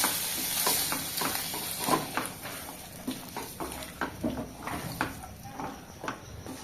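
Vegetable ghugni of boiled potatoes and peas being stirred in a pan: a spoon scrapes and sloshes in a steady rhythm over a constant soft sizzle, close and fairly quiet.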